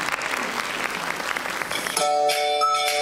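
Audience applause at a school reading awards ceremony as an education official is invited on stage, a dense patter of clapping for two seconds before a bright sustained musical tone cuts in.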